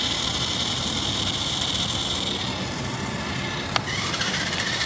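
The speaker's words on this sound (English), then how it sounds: "Now I put the car into high, and we'll just kind of see how the car accelerates" Nikko Turbo Panther RC toy car in high speed, its small electric motor buzzing loud and steady with a high whirring whine, a brief click partway through.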